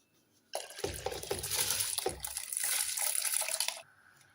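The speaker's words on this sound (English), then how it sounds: "This is the 1 kg basmati rice pre-washed and soaked for half an hour. Now I'm going to add this." Pre-soaked, pre-washed basmati rice, a kilogram of it, tipped into a pot of well-boiled stock for mutton machboos, giving a sustained watery splashing and pouring rush for about three seconds, close and fairly loud.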